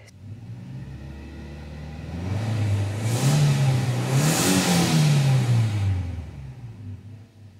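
Toyota Hilux gasoline engine revved from idle, pitch rising smoothly to a sustained loud peak and falling back down, heard close and alone.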